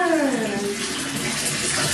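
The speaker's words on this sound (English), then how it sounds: "How do you feel about Oscar wasting all the hot water" Hot water running from a shower tap, a loud steady rushing hiss filling the space, with a brief voice-like tone at the start under the water.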